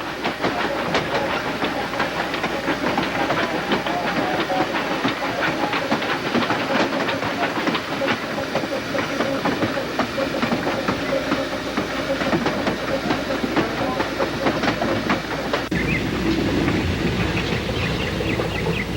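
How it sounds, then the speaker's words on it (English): An ET&WNC steam locomotive easing into Cranberry station in North Carolina, loud and steady with hissing steam and rolling rail clatter, the tone shifting near the end. "We're into North Carolina, and the locomotive eases into Cranberry."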